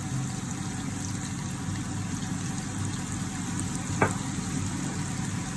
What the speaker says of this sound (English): Our onion is frying.